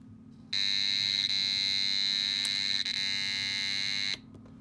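A light-triggered alarm clock gives a shrill, steady electronic alarm tone continuously for about four seconds over a low hum, then stops.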